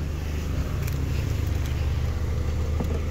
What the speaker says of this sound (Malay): Kereta dah hidup.